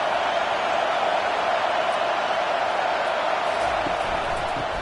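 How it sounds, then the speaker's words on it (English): Steady, dense crowd roar filling a televised-style college football video game between TCU and Nebraska on third down, holding loud and constant throughout with no clear peaks. "Decibels rising as the crowd gets behind this defense on 3rd down"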